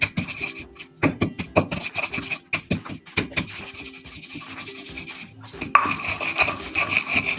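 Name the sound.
grinding spices for goat satay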